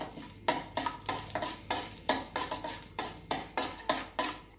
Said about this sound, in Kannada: ಸ್ವಲ್ಪ ಚಟಪಟ ಅಂದು ಗೋಡಂಬಿ ಸ್ವಲ್ಪ ಫ್ರೈ ಆದರೆ ಸಾಕು